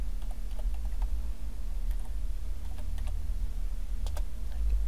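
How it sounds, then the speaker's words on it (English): A password is typed on a computer keyboard: a run of light, irregular key taps, fairly faint and close, over a constant low hum, ending in a sharper keystroke, with no talking. "Type the password."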